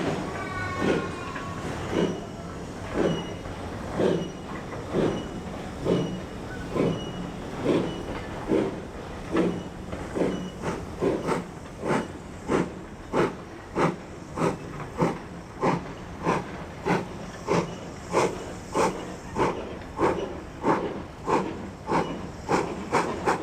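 A steam locomotive on the Keighley and Worth Valley Railway in West Yorkshire chuffs steadily, its exhaust beats quickening as it pulls out of a station, with a hiss of steam and a brief whistle at the start.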